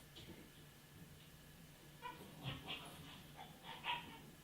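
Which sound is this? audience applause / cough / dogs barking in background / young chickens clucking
dogs barking in background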